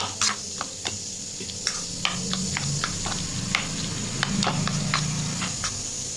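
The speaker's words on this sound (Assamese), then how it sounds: "এতিয়া ভালদৰে মিক্স কৰি লৈছোঁ" Mashed eggplant is mixed with salt and mustard oil, giving soft repeated scraping and tapping of a utensil against a bowl in irregular strokes, close and fairly quiet over a low background hum.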